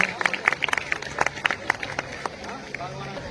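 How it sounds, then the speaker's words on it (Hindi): A crowd applauds at a school Independence Day celebration, with sharp individual claps standing out over a steady murmur of people, moderately loud and gradually thinning. "जोरदार तालियां, जोरदार तालियां"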